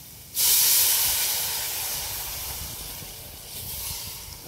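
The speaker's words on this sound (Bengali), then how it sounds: "আমাদের মশলাটা কষা হয়ে গেছে, এর মধ্যে এবার জল দিয়ে দিচ্ছি" Water hits hot fried spice paste in a pan for a desi chicken curry, setting off a sudden loud sizzling hiss that slowly fades while staying steady.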